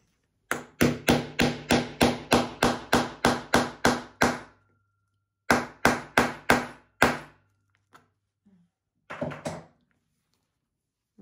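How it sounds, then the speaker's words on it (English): Sharp hammer blows on a snap fastener set with a small setting tool while making a wallet, a quick run of about a dozen evenly spaced strikes, a pause, then four more and a few faint taps. "And we hammer."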